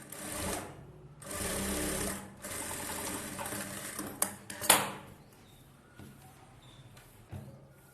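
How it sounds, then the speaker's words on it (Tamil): A sewing machine stitches a cross belt on an Aari work blouse in two loud, even bursts of rapid whirring. Then come quieter handling sounds, a few clicks and a sharp metallic ping. "இப்போது இந்த கிராஸ் பெல்ட் தைக்கிறோம்."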